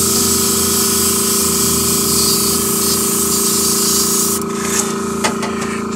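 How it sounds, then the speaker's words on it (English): A whisk broom spatters paint onto a model railroad backdrop, giving a continuous hissing spray for several seconds that ends in a few brief scratchy flicks, close and steady. "I'm going to take my whisk broom up there and just kind of spray"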